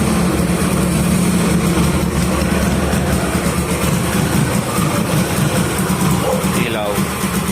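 A vintage Honda motorcycle engine idles steadily after a kick start, a loud, continuous close-up rumble that holds throughout, with a brief metallic scrape near the end.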